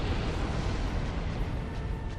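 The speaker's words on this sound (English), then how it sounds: "It causes that AoE explosion." A boss in Dark Souls sets off an area-of-effect explosion in Lower Blighttown, a sustained loud rumbling roar with deep low-end weight that holds steady for its whole length.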